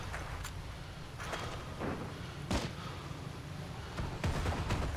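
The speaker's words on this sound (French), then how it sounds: "je vais essayer de le perforer avec le canon anti-aérien" An anti-aircraft cannon fires in the World War II shooter Heroes and Generals, giving several sharp, booming shots at irregular intervals over a constant rumbling battlefield background.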